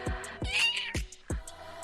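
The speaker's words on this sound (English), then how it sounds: "I'm sitting here with my cat Slippers." A cat meows once, close and fairly loud, against a backdrop of repeated low thumping beats.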